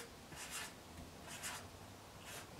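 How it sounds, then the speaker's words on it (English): A pen writes a label on a paper hood sewing pattern, making soft, faint scratching strokes in a few short bursts, close and quiet, with a brief louder tap at the end. "I'm writing upside down for you guys."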